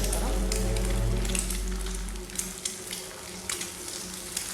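Egg and banana frying in a pan with a steady loud sizzle, stirred now and then so soft scraping clicks break through near the end.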